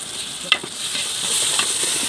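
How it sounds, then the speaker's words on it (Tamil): Onions, green chilli and ginger garlic paste fry in hot oil with a steady bright sizzle, punctuated by a sharp stir or scrape of the spoon near the start. "வெங்காயம் நல்லா பொன்னிறமாக வந்த உடனே இப்போ இஞ்சி பூண்டு பேஸ்ட்டு சேர்த்துக்கிறோம்."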